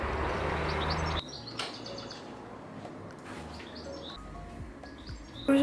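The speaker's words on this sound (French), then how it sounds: "J'aime trop écouter le matin mes oiseaux." Morning birdsong outside a home, with bright chirps and short whistled phrases repeating from several birds at moderate distance, after a brief rush of background noise at the start.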